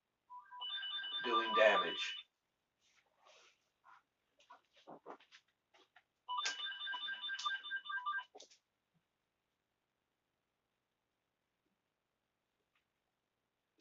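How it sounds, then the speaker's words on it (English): A phone's electronic ringtone plays two bright, warbling bursts of about two seconds each, separated by a few seconds of quiet speech, in an indoor setting. "Sorry for the phone interruption."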